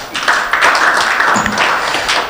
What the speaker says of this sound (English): Please, can we also invite him with a round of applause?